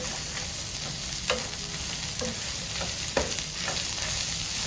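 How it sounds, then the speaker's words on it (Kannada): Masala paste for Mangalore-style kori rotti chicken curry frying in a pan over low gas, a steady soft sizzle with occasional stirring scrapes and clicks, close and moderately quiet, with no talking. "ಗ್ಯಾಸ್ ಸ್ಲೋವಲ್ಲಿ ಇಟ್ಟು ಫ್ರೈ ಮಾಡಬೇಕು, ಇಲ್ಲಾಂದರೆ ಕಪ್ಪಾಗ್ತದೆ."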